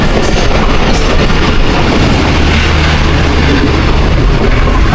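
The Green Line Express thunders through Gujar Khan station in Pakistan, a loud, continuous rumble of wheels and coaches rolling past close by, with no break.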